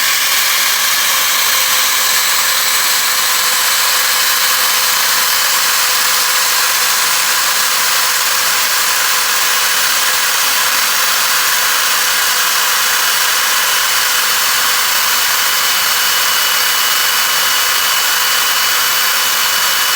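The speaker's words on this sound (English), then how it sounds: "the first step is you want to drill the pins out" Steady, loud, high whine of a drill boring out the riveted control arm pins on a 1978 Ford Mustang, continuous and unbroken for the whole stretch with no talk.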